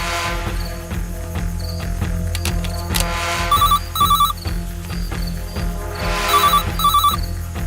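A phone rings in two pairs of bright electronic trills, spaced a few seconds apart, over a steady low hum and background clatter.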